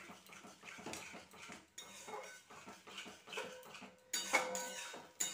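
Yogurt being stirred into a pan over low heat for a Rajasthani-style curry, heard as repeated scraping and clinking of a utensil against the pan in uneven strokes, fairly quiet and close, with no talking.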